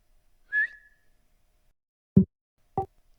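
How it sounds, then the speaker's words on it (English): A person whistles once loudly, a short, high tone that holds briefly and fades, followed by two short, low thumping sounds after a pause, with no talking. "So he whistles really loudly"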